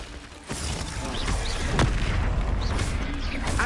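The Glacius freezing spell in the Hogwarts video game: a mechanical, booming burst that swells after a brief lead-in and holds steady with crackling, ratcheting detail and faint tonal glints, loud and without talk.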